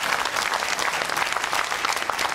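Audience applause fills a televised political debate studio, dense steady clapping from a large crowd held at an even level throughout, with no speech over it.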